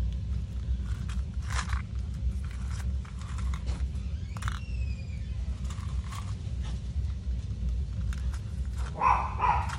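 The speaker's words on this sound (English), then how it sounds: "I don't know what they're barking at." Dogs bark in short, scattered bursts at a distance over a steady low background rumble, with a few sharper clicks and knocks in between.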